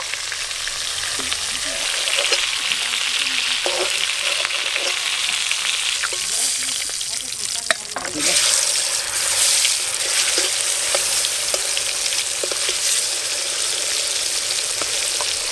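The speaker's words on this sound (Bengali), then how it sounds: "মাছ লাল লাল করে ভাজা হয়ে গেছে," Large pangas fish pieces fry in mustard oil, producing a continuous loud sizzle with crackles and occasional pops as the skin splits, plus a few utensil knocks partway through.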